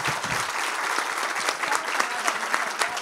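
A book fair audience claps together in a brisk, continuous burst of applause, close and fairly loud, holding steady for a few seconds without a break.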